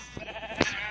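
A sheep on a farm lets out a short, faint, wavering bleat, heard from a distance against quiet background noise.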